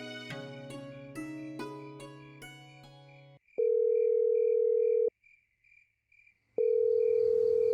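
A phone call goes unanswered. A short run of tones leads into two long, loud ringback tones separated by a quiet gap, with no voice answering.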